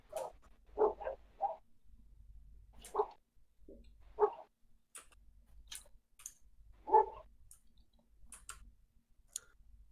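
A dog barks in short, distant yelps, scattered irregularly over about ten seconds against a faint low hum, in a farming simulation set in Galicia.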